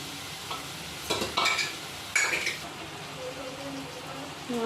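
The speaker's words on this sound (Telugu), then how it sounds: "వంకాయలు ఇట్లా మగ్గాలండి." Eggplant pieces cooking down in a pan for an eggplant chutney, with a soft continuous sizzle broken by a few louder stirring scrapes and clatters, and a brief voice near the end.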